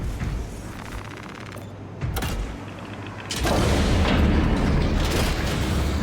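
Grenade explosions in a video game, heard as a couple of sharp booms with a loud, sustained rumble of blasts and debris from the middle of the clip onward.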